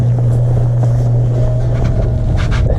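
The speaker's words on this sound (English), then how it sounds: "It's so fucking windy." Strong, cold wind roars across the microphone during a long bike ride toward Pikes Peak at high elevation, a loud continuous low buffeting that never lets up.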